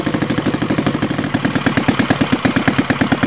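ROTO 85 FSI two-cylinder four-stroke gasoline RC airplane engine with a 3D propeller, running steadily at a low throbbing rhythm, loud and close with even pulsing firing beats throughout, no voices.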